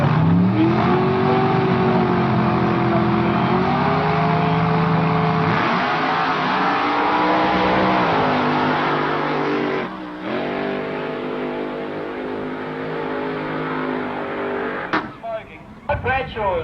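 Drag racing cars at the Eastern Creek opening meeting roar loudly with a sustained revving engine drone that rises and holds, briefly dipping before ending in choppy bursts, with commentary running over it.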